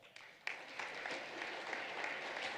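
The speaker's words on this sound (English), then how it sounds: "Let's congratulate these students with a round of applause." Audience applause for students at a school ceremony, a full round of many hands clapping that builds quickly and holds steady, heard on its own without talk.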